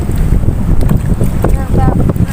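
A small boat's motor runs on open water, heard as a dense, loud low rumble mixed with heavy wind buffeting against the microphone and water wash, continuous throughout with faint voices beneath.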